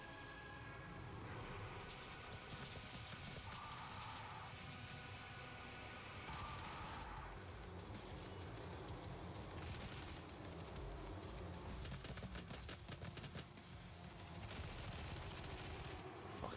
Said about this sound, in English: Missile attack.